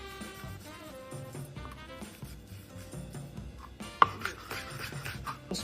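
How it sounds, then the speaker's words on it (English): A knife chops French shallot finely on a board, giving soft, irregular taps under background music, with one sharper knock partway through. "French shallot, finely chopped."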